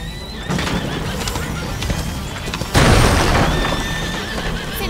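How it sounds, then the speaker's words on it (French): A horse neighs and whinnies loudly in the medieval stealth game A Plague Tale: Innocence, with hoof clip-clops and a sudden boom partway through, set against the game's ambient sound. "Regardez, le cheval."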